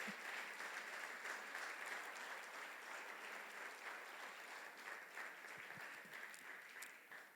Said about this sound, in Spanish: Dale ese aplauso fuerte a él.